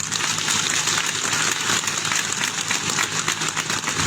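Crowd applause at a BJP political election rally in Narayanpur, a dense, loud, continuous wash of clapping from a large outdoor audience, with no clear speech over it.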